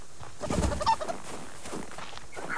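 A chicken in the video game Subsistence gives a short burst of soft, clucking calls, fairly close and lasting about a second, with quiet ambient game background around it.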